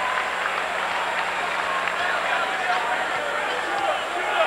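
College basketball arena crowd at a Rutgers versus St. John's game rumbles and murmurs in a sustained, broad roar, with a commentator talking over it.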